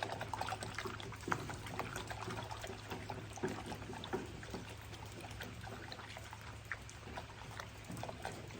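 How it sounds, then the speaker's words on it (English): Egg yolks and water stirred well with a stick while preparing a fur-tanning mixture, giving a steady, soft liquid swishing and dribbling that runs continuously at low level, with a faint hum beneath. "I'm going to mix this up with a stick really, really well. Make sure that I get those egg yolks mixed with that water."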